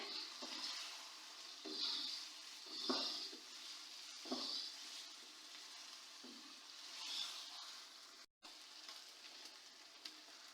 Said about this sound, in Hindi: अब इसके अंदर मैं डालूंगी मटर और मटरों की भी अच्छी तरह मैं भुनाई कर लेती हूँ